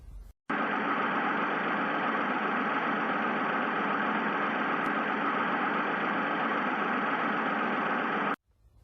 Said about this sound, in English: extracting four-cylinder engine combustion noise